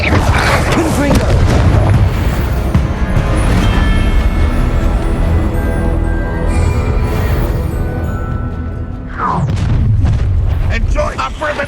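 Loud Confringo blast spells from the Hogwarts Legacy video game, dense booming explosive bursts in continuous battle din, with a fresh burst of impacts near the end.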